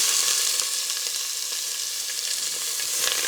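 Onions softening in hot oil with mustard seeds, curry leaves and dried red chillies in a Tamil mutton chops dish, giving a steady, close sizzle with faint crackles throughout and no talk.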